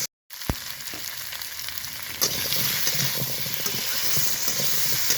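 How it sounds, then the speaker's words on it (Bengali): Pumpkin frying with a ground paste of panch phoron, cumin and other spices, a brief knock before a loud continuous sizzle that swells after two seconds, with stirring scrapes mixed in. "এইভাবে একটু আগে কষিয়ে নিব কুমড়োটাকে বন্ধুরা"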